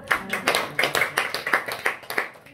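A small group claps together in a quick, even rhythm, about a dozen crisp hand claps in under three seconds, close and fairly loud in an indoor room.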